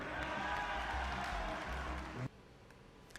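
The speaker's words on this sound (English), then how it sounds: "Hear the applause track there" An applause track replayed from the film Seduced: dense, even crowd clapping for about two seconds, then abruptly cut off to near quiet.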